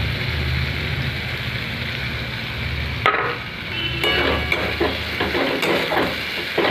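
Tomato paste hits hot oil with soaked chicken masala and turmeric in a pan for chicken curry, a steady close sizzle joined midway by a louder burst of frying crackle and stirring scrapes.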